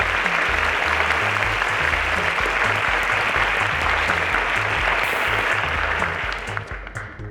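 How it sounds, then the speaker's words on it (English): An audience applauds teachers at the Cowbellpedia TV quiz show: sustained, dense clapping from a large crowd that holds steady, then thins and fades over the last second. "Please give them again a round of applause."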